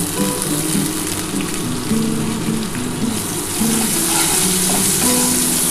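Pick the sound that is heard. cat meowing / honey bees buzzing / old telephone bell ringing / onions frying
onions frying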